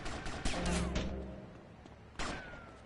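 Gunfire in GTA Vice City, a quick cluster of shots early on and one more sharp crack later, fairly faint and without talk.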